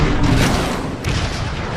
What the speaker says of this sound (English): there are 3 wolf cannons shelling the Ark